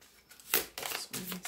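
Tarot cards are shuffled in a few quick, soft bursts, close by and faint, with a short pause between each riffle.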